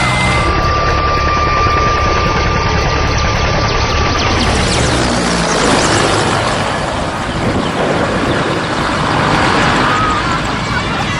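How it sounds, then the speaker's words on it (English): Helicopter flying at low altitude, its engine and rotor making a loud, continuous roar that stays close and fills the whole stretch with a broad rumbling wash. "Flying a helicopter at such low altitude presents serious risks"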